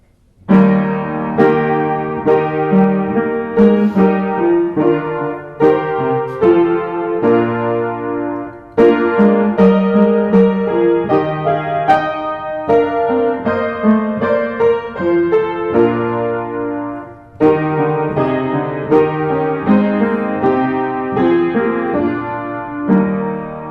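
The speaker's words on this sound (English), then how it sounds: "the entire choir singing in 4-part harmony" A choir sings Philip Nicolai's hymn "Wachet auf" in four-part harmony, from Bach's Cantata 140, slow, full and sustained, phrases moving in steady chords with brief pauses between lines.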